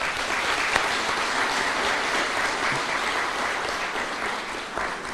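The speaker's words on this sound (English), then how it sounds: "We applaud you as the patrons of each CDF fund in your constituencies." A large audience at a Constituency Development Fund anniversary event applauds the members of Parliament, a loud, dense and continuous wash of clapping heard steadily throughout with no speech over it.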